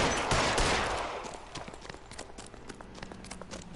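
Gunfire in the video game L.A. Noire, a loud burst of rapid shots at the start followed by scattered sharper cracks and clatter that fade back over the remaining seconds.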